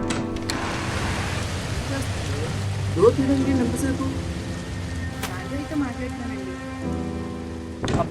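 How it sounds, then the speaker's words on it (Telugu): Heavy rain pours down steadily in a dense, unbroken hiss of drops on surfaces, with a faint voice briefly audible beneath it and a few sharper knocks. "అబ్బాబ్బా వర్షం అస్సలు తగ్గట్లేదు."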